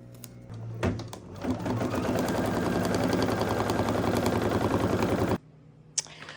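A Kimberbell embroidery machine stitches a snack bag held in the hoop, a close, steady rapid clatter lasting several seconds before stopping abruptly, followed by a faint click.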